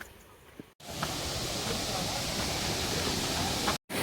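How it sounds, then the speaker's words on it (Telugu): A hidden waterfall in the forests of Andhra Pradesh roars as a steady, close, hissing rush of falling water, briefly cut by two short breaks in the recording. "ఫైనలీ మన వాటర్ ఫాల్స్ దగ్గరికి వచ్చేసినాము"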